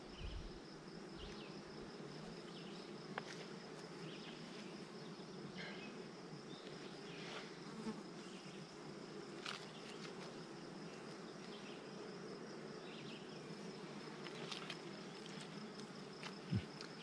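Honey bees swarm around an open hive during a beekeeping inspection, a continuous low buzzing drone with individual bees passing nearby, faint but steady throughout with no talking.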